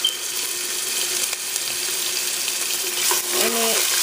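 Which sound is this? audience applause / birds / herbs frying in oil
herbs frying in oil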